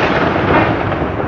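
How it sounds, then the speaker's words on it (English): A loud, continuous rumbling roar of thunder in the Minecraft video game, filling the short stretch with broad, steady noise that neither rises nor fades. "Do you hear that? Sound like thunder."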